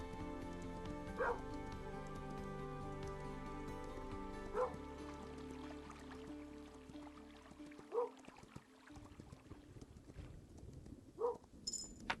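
In the video game Norse Lands, a dog gives several short barks and whimpers spaced a few seconds apart over steady ambient game music and a flowing water bed.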